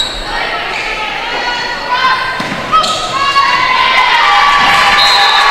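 A crowd cheers and shouts in a college gym during a women's volleyball match, with a sustained loud roar that builds across the clip and a few thuds from play mixed in.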